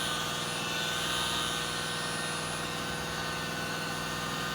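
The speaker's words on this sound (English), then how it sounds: "I just want you to pay attention how smooth it is and how smooth running the little 550 watt motor is." A rotary polisher with a small 550 watt motor running continuously, a smooth, even whine with steady tonal hum and broadband hiss, no pauses or speech.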